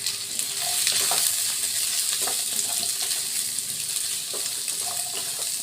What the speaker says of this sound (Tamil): பரங்கிக்காயை சேர்த்த பிறகு கொஞ்சம் நல்லா வதக்கிக்கொண்டேன்